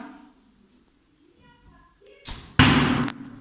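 Arrow released at a target with the left hand: faint background sounds, then two loud broadband impacts in quick succession near the end, the second the strongest, close and sharp.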